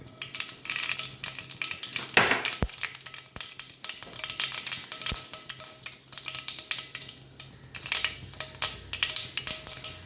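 Mustard seeds crackle and sizzle in hot oil while cooking a banana stem and cabbage dish, a steady spattering hiss with scattered sharp pops and a couple of louder clicks from the pan.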